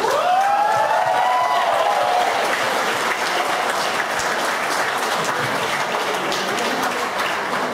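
Audience applause breaks out right after a sung Kannada devotional song at a blogger meetup in Bangalore, a dense steady clapping from a sizeable crowd that holds at full strength throughout, with a sustained sung or whistled tone fading out at the start.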